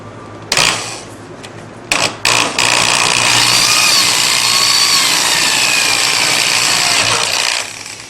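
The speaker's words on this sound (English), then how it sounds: "Other people like to drill aluminum dry." Power drill bit boring through aluminum, with a few short bursts that settle into a loud, sustained high whine before stopping.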